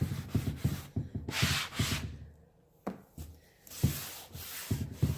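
Sandpaper rubbing wax off old 1960s furniture with leather, rapid back-and-forth scratchy strokes in bursts, close and fairly soft, with brief pauses between passes.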